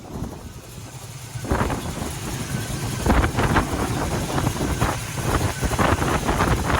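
Outdoors beside a 1968 Camaro RS SS, strong gusts buffet the microphone with a loud, uneven rushing roar that builds and keeps pulsing to the end.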